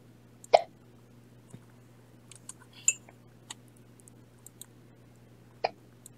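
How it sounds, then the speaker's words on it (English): A child hiccups a few times at irregular intervals, short sharp catches over a quiet room with a steady low electrical hum, during an online class. "Oop, you have the hiccups."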